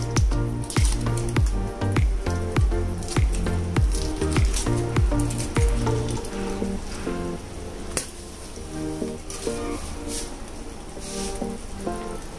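Cheese cubes drop into a pan of white sauce pasta, making a run of soft squishy, bubbling sizzles with small wet taps at first, then a steady simmering patter.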